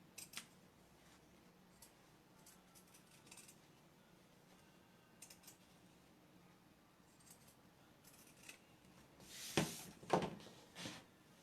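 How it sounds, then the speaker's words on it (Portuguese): Straight fabric scissors snip through cloth with a few quick, fairly close cuts near the end, after a long stretch of quiet room noise with faint handling sounds. "Pode fazer também com a tesoura reta."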